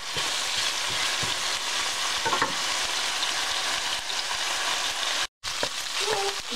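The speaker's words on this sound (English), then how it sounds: "Just mix your meat," Beef and onion stir-frying for snow peas in a pan, a continuous close sizzle with occasional scrape and clatter of the mixing.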